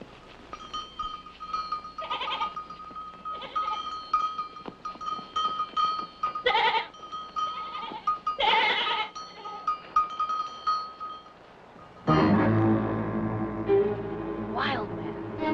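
Goats bleat repeatedly from a farm or mountain pasture scene in a 1978 film, several wavering calls rising over a steady ambient backdrop, followed by a louder, busier burst of sound toward the end.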